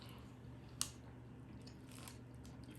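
A single faint, sharp crunch from biting into a lettuce-wrapped steak taco, followed by quiet chewing against a low room hum.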